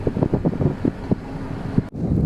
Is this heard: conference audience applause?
no